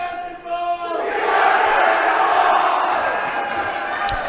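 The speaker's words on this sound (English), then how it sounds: "all the boys for the boys team encouraging on and getting the crowd worked up here" Crowd at a girls' regional high school basketball game swelling into loud sustained cheering and shouting, with boys egging on the spectators, following a brief quieter moment with a sustained tone.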